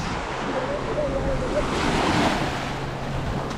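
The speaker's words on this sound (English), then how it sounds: "Let's wait for the next wave." Waves break and wash on the shore of a Lake Superior beach in Michigan's Upper Peninsula, with a steady close surf roar and wind buffeting the microphone.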